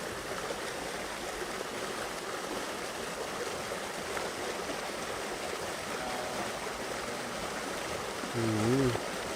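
Warm healing spring water at Bath Fountain, Jamaica, flowing in a steady, broad rushing wash that runs throughout at an even level, with a brief faint voice near the end.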